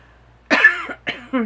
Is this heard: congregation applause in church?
no